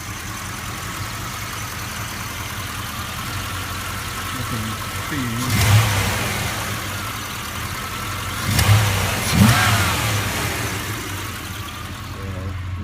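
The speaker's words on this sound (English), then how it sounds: "So here's the engine running." A 1978 Volvo 262C Bertone with dual exhaust idles close by in a steady, even rumble, with two or three brief revs rising above it; someone speaks briefly over the engine.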